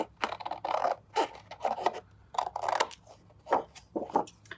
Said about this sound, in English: What I like about these Tim Holtz scissors is the blade is extremely long, so it makes it easy to cut straight lines.